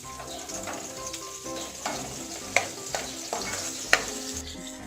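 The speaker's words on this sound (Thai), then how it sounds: "เอาหอมแดงไปเจียวให้หอม" Sliced shallots sizzle in leftover oil from frying fish, a steady close frying hiss punctuated by scattered clicks and taps of stirring.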